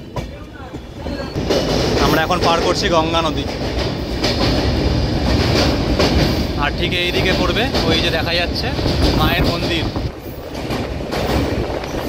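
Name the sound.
Kanchan Kanya Express train running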